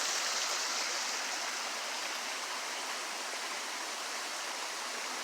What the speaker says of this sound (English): Here's one of our waterfalls that we saw.